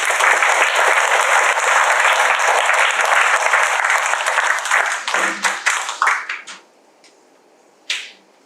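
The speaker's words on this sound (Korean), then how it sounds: "그렇게 되기를 박수로 한번 쳐" A church congregation at a Liberation Day thanksgiving service applauds in a full, loud burst. The clapping breaks into scattered claps and stops, and one lone clap follows after a pause.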